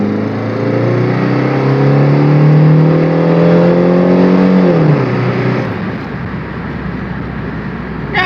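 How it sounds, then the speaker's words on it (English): Car engine, an older 110-horsepower road car, revving hard on a wide-open-throttle run: a loud, steady rising drone that climbs in pitch, drops sharply at a shift, then settles into a rougher, lower roar. "I do a nice little wide open throttle run when we go around here."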